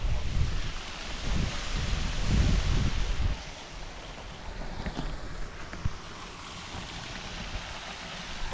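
Steady wind gusting across the microphone on a trek to Wah Kaba Falls, Cherrapunji, a heavy buffeting rumble that eases after a few seconds into a softer continuous rush.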